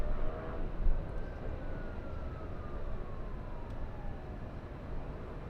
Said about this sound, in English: I'm hearing more sirens around.